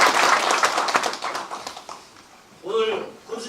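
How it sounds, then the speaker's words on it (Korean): An indoor audience claps to welcome the county governor at a town dialogue event in Hongseong. Dense, steady applause fades out, then a voice speaks briefly at the end. "힘찬 박수로 환영해 주시기 바랍니다"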